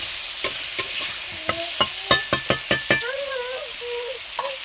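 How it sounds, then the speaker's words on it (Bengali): Ridge gourd and potato stir-fried with spices and ground onion and cumin paste in a village kitchen in Nandigram: a quick series of sharp spatula strikes over a low sizzle, then a brief high warbling sound. "দিয়ে একটু সঙ্গে মশলা এবং ঝিঙে আলু ভালো করে কষিয়ে নেব।"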